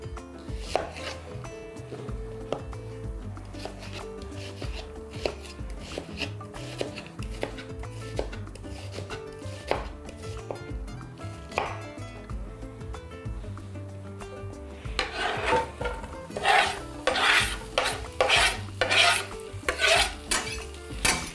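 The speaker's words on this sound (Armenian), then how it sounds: "Վերցնում նոր տախտակ, նոր դանակ, 2 գլուխ սոխ, փոքրիկ, և կտրատում ենք փետրաձև" Two small onions being chopped with a knife on a new wooden board, rapid steady knife taps hitting the board, growing louder and busier toward the end.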